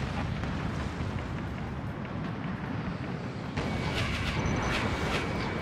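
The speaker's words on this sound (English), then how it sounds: "Solid hit on building." In the flight game Ace Combat Infinity, a missile strikes a building with a dense, continuous explosive rumble and roar. The roar swells brighter partway through and stays loud throughout.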